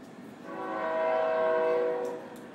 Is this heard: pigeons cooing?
no